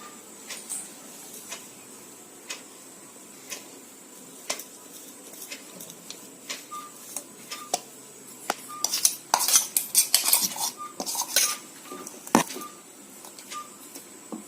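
A metal spoon stirring a gooseberry arishtam mixture in a pot: light scraping and clinking, sparse at first, then a busier cluster of close metallic knocks and taps, with no voices.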